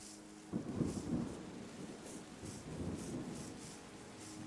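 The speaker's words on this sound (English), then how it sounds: "Rain!" Rain falls and thunder rumbles in the video game Terra Nil, a low rolling rumble starting abruptly and swelling, then settling into a steady hiss of rainfall, moderately quiet with no voices.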